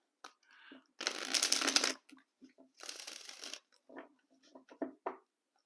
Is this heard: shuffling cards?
yes